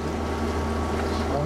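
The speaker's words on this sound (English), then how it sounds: "So this is the noise level when you get the juice, the electrical juice from the generator." A boat's onboard generator runs steadily, supplying electrical power as a quieter alternative to the Caterpillar main diesel engine; it makes a continuous, even low droning hum with no breaks.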